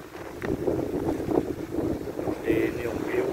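Steady wind at a beach resort buffets the microphone in a low, continuous rumble, with faint indistinct voices mixed in underneath.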